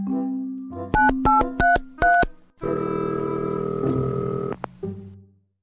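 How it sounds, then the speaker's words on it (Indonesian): A phone keypad dialed by hand: five short, distinct tone beeps in quick irregular succession, followed by a steady, loud, buzzing ringback tone that holds for about two seconds and then stops, with no talking. "Yaudah, gua telepon dulu."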